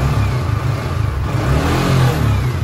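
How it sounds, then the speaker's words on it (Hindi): A new superbike's exhaust idles and revs at close range, giving a loud, continuous low engine drone that swells slightly, with no talking over it. "आपको थोड़ा लाउड सुनाता हूँ उसका एग्जॉस्ट"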